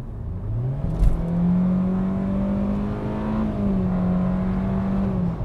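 A small Kia car engine is revved under full throttle, giving a loud, steady drone that climbs slowly in pitch, with a brief knock near the start.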